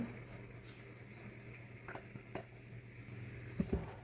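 Whipped egg whites are gently folded into a cottage cheese casserole batter, giving soft, slow scraping and squelching strokes against the bowl, with a couple of light clinks near the end.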